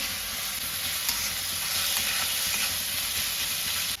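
Chopped ginger fries in a pan, a loud continuous hiss of hot oil that holds steady and close before cutting off at the end, with no voices.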